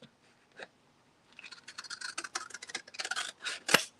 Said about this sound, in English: Cutting off the sticky part, so stop sticking to things.